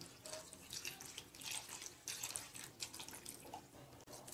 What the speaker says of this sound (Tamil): இப்போ கொஞ்சம் தண்ணி ஆட் பண்ணிக்கோங்க.